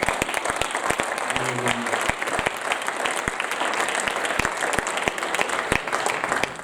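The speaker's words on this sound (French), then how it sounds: "Est-ce que quelqu'un peut applaudir le Seigneur?" A congregation at a francophone church conference claps steadily and evenly, with crisp individual claps standing out over a dense, continuous wash of applause.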